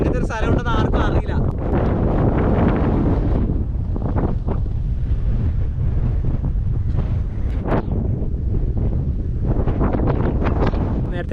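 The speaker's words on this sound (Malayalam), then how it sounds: "ഇപ്പൊ കാറ്റ് എന്ന് പറഞ്ഞാൽ നല്ല കാറ്റ്" Strong gusting wind on a hilltop in Kannur district buffets the microphone, making loud continuous roaring rumble with sharp bursts early and late; a voice talks briefly underneath.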